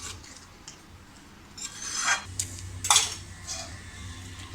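A spoon scrapes and clinks against a pan while soya chunks masala is stirred, with a soft background sizzle and a few louder scraping strokes in the second half.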